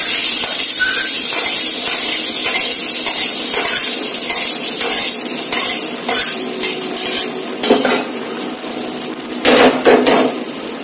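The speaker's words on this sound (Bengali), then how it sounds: "মশলাটা কষিয়ে নিয়েছি, এবার ডালে দিয়ে দেবো।" A fried spice masala is tipped into lentil dal and stirred, a loud bubbling sizzle with clattering utensil scrapes against the pot, getting choppier toward the end.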